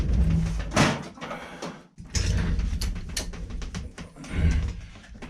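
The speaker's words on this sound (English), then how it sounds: "So put a breaker bar on there." Breaker bar working a stubborn bolt loose on the rear roller of a Ransomes Marquis mower, heard as bursts of metallic ratcheting, creaks and clanks with a brief pause in the middle, fairly close.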